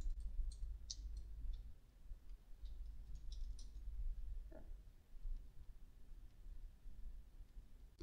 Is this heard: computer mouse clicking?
yes